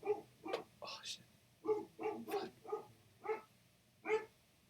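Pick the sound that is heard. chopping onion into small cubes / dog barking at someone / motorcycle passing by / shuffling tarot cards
dog barking at someone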